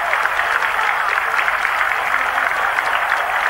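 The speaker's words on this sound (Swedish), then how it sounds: "Stort jubel." A dense roar of applause and cheering rises from a stadium crowd during a 1987-88 Serie A football match between Napoli and Fiorentina, steady and loud throughout.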